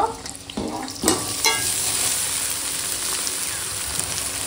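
Rice sizzles and crackles steadily in a hot pan as it is stir-fried, with a few scraping clinks of stirring near the start.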